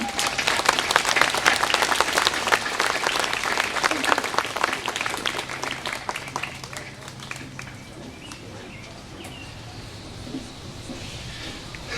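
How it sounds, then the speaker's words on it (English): Outdoor audience applause at a Lafayette Bicentennial Day event in Gallipolis, Ohio, loud and dense at first, then thinning and fading into scattered claps and ambient noise. "Let's give a nice round of applause"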